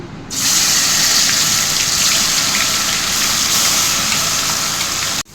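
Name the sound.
onion and garlic paste added to hot oil, sizzling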